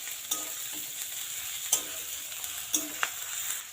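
Grated garlic and ginger stir-fried in a pan with oil, giving a steady low sizzle broken by a few sharp scrapes and clinks of the spoon against the pan.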